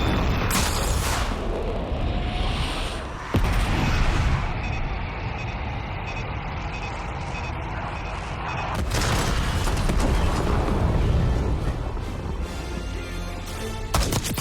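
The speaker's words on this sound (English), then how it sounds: "Bombs away." Bomb explosions in Call of Duty Black Ops 6, heavy booming blasts and rumbling debris that swell loud and sustained, with sharp cracks marking new detonations partway through.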